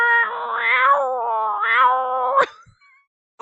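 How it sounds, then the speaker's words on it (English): A video game cat meows and caterwauls in two long, wavering, drawn-out cries that rise and fall in pitch, close and fairly loud, ending in an abrupt clipped squawk followed by near silence. "A lot of erring and meowing."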